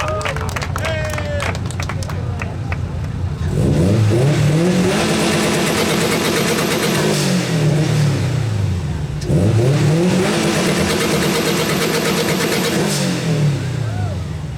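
A 2004 Subaru WRX revs hard at an exhaust competition, two long loud sweeps of rising and falling engine roar, each held for several seconds, with a crowd cheering and people talking around it.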